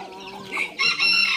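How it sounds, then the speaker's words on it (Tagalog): Domestic chickens, including a rooster, clucking nearby on a farm in the morning, with a short run of clucks followed by louder, sustained fowl calls. "Ayan na yung mga manok. Mga manok natin dyan"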